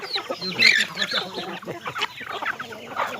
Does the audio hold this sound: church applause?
no